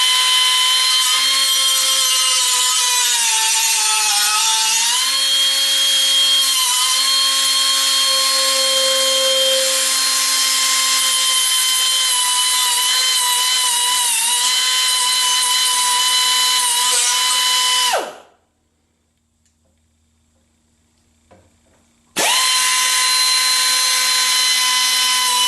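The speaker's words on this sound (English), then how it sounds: "So I'm going to have to clean it up with the little die grinder." A small die grinder cleaning up the cut edge of a firewall cover on a 1976 Corvette, a loud sustained high-pitched whine that drops out briefly to near silence before starting up again.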